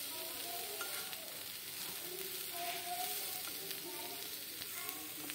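Cauliflower for a kachori filling fries in a pan with a constant, close hissing sizzle and faint irregular crackles, steady and unbroken throughout.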